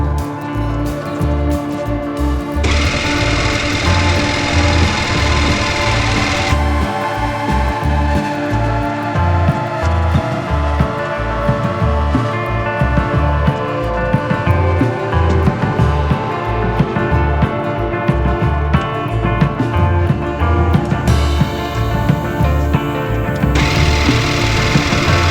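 Porsche 356 replica engine cranking over while a dry fuel pump tries to prime: a loud, steady, rapid mechanical chugging that runs continuously for about 25 seconds.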